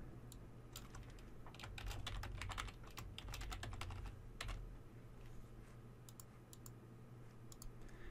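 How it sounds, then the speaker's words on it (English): Steady typing on a computer keyboard during PowerPoint VBA work, with bursts of quick clicky keystrokes over a constant low hum, fairly close and moderately loud throughout. "I'm going to click on this and type ready."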